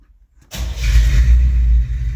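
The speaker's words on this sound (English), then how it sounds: "it's truck's warm. Let's go ahead and fire it up." A 1985 K20 truck engine starting up after a moment of quiet, catching abruptly and settling into a loud, rumbling idle close by.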